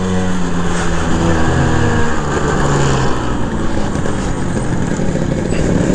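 A Vespa PX scooter engine labours up an incline in second gear, a loud steady drone with low throbbing harmonics that holds up close throughout and has no talking over it.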